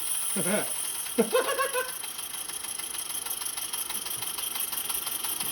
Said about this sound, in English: Blow-off valve is pressure release valve's going